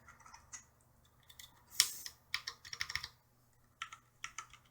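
Typing on a CM Storm Quickfire XT mechanical keyboard with Cherry MX Brown switches, close and crisp: scattered single key clacks, then a quick burst of several keystrokes and a few more taps, with quiet gaps between.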